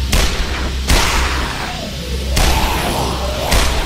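Gunshots in the sci-fi zombie shooter video game Dead Effect 2, fired at close range: four loud, booming single blasts spaced about a second and a half apart, each trailing into a rumbling decay.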